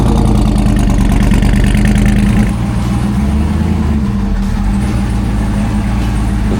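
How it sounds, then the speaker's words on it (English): A 1955 Chevy truck nicknamed Grumpy idles close by, its engine a loud, steady low rumble that shifts slightly in pitch partway through. "this is my 55 Chevy truck that we call Grumpy"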